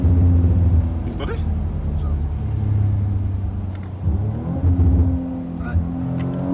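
Audi RS5 with a 450 hp engine and four-wheel drive, heard from inside while driving: a deep engine drone that rises and falls with throttle, and a voice talking over it.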